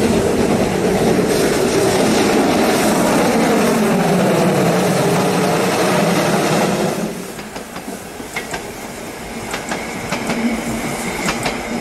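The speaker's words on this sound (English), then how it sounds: "the sound of a steam engine working hard is something not to be missed" A steam locomotive working hard rumbles loudly past at close range, a heavy continuous roar that drops away abruptly, leaving quieter clanking and rattling of carriages.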